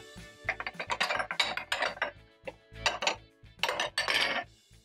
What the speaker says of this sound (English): Once I'm done chopping up my onions,